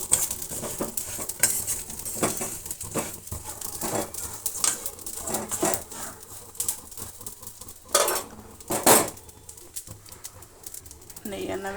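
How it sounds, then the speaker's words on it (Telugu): Vermicelli and almonds frying in a pan for bottle gourd payasam give a soft, steady sizzle, broken by scattered scraping and clinks of a stirring spoon, under a voice. "సేమియా చూడండి, సేమియా అయితే ఫ్రై చేస్తున్నా"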